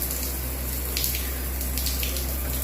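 Tap water runs steadily into a basin to bathe a pet Indian ringneck parrot, a continuous close, even splashing hiss with no talk.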